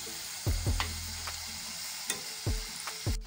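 Chana dal bhaji frying in hot oil, a steady quiet sizzle broken by several sharp knocks and clatters of a utensil turning the fritters, close by with no talk.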